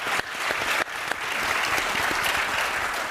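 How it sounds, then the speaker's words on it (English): An audience applauds at the close of a short entrepreneurship conversation, a dense, steady wash of clapping that carries on without a break for the whole stretch. "Let's give them an applause."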